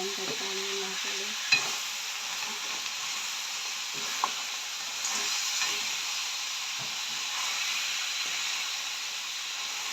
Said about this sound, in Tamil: நல்லாவே நண்டை வந்து கலந்து விடுவோம்.